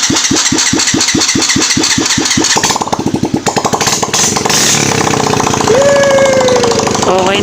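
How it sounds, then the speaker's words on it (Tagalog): A motorcycle engine, just fitted with a new piston, cranks with a rapid chugging rhythm, catches and settles into a steady idle, loud and close with a brief revving rise near the end. "start na makina"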